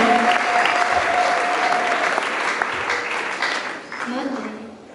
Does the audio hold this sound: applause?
yes